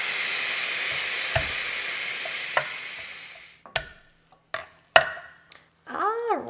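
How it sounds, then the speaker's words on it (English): Food sears and sautés in a hot pan with a loud, steady sizzle that stops abruptly, followed by several sharp clanks and taps of utensils and cookware close by. "we're going to do the sear saute to get that finished cooking."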